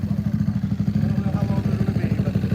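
A naturally aspirated Can-Am Outlander ATV built for drag racing revs hard on its pass, a loud, steady pulsing engine drone with rhythmic throbbing throughout.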